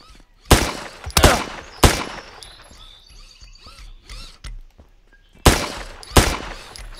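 Gunfire in the zombie survival game Zompiercer: several loud, sharp shots in uneven bursts, close up, with quieter game noises between them and almost no talk.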